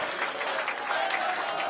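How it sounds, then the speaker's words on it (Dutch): Audience applause for award winners at a regional sport and business awards evening. It is dense, continuous clapping from a crowd, moderately distant and steady throughout the short stretch. "Maar ik nog een applaus voor Bikwik"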